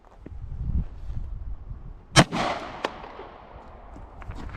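A single sharp, loud gunshot from a 5-inch barrel during ammunition test-firing, with a short echoing tail and a fainter crack after it, over outdoor background noise.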